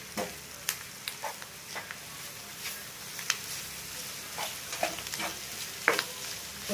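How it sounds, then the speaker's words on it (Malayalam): Clam meat stirred in a frying pan for a Kerala-style clam roast, a soft steady sizzle punctuated by scattered spatula taps and scrapes, fairly quiet and close. "വെച്ചിരിക്കുന്ന കക്കായിറച്ചി അതിനകത്തിട്ടിട്ട് നല്ലപോലെ ഇളക്കി ഇളക്കണം."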